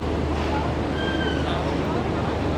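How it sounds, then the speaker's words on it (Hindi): The Shalimar Express rolls along just after pulling out of Multan Cantt station, with a continuous loud rumble and rattle of the carriages and a brief faint squeal of wheels partway through. "10:30 बजे ठीक हमारी ट्रेन निकल चुकी है मुल्तान कैंट रेलवे स्टेशन से"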